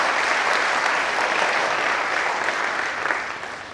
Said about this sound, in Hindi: आप लोग इन दोनों साथियों के लिए तालियां बजाएं